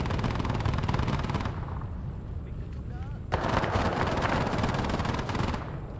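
Arma 3 Vietnam combat with dense rattling gunfire and distant heavy firing rolling through the battlefield, a brief lull at midpoint before a sharp burst resumes the continuous volley.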